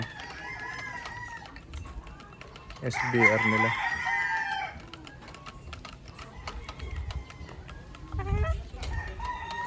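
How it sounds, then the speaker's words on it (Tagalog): Gamefowl hens cluck and crow on a gamefarm, a loud burst of fowl calls in the middle, with brief talk and farm noise around it. "Ito yata yung mga inahin."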